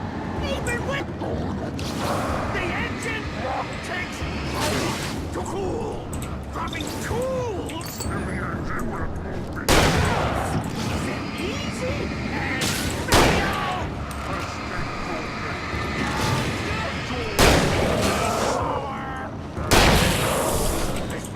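Revolver gunfire in the video game Alan Wake, several loud sharp shots at irregular intervals over a busy background of game action, music and effects, with a voice talking throughout.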